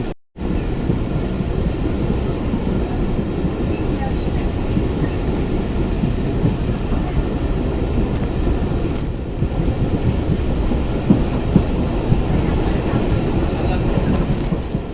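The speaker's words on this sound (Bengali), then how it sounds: "আমাদের ট্রেনটি চুলকাঠি বাজার রেলওয়ে স্টেশন থেকে ছেড়ে যাচ্ছে" A train pulls out of Chulkathi Bazar railway station on the Mongla to Jashore line in Bangladesh on a rainy day, giving a loud, steady, close rumble of wheels and carriages that runs unbroken throughout.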